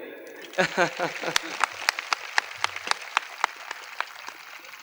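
At a school annual function and prize distribution, a short burst of voices gives way to sparse, evenly spaced claps, faint and unhurried, a thin audience response rather than a full ovation.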